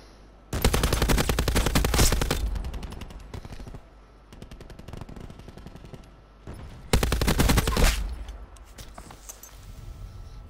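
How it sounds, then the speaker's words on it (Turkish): Automatic weapon fire in a video game: two long, loud rapid bursts near the start and again later, with scattered quieter shots in between and no one talking. "Bu silah daha seri la."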